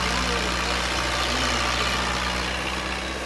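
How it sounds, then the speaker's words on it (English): A tractor idles and drags a dirt course being set up for a Baja SAE off-road event in Maryland, giving a loud, steady low engine drone with no pauses. "The loudness that you can hear there is a tractor dragging out one of the course."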